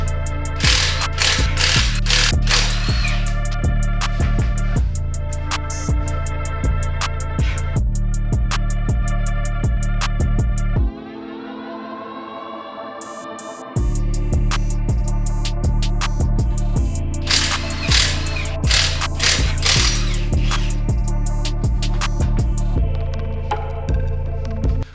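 Ratchet wrench working the wheel fasteners on a BMW E90 to pull the rear wheel, loud rapid clicking in repeated bursts with a short pause midway, no talk.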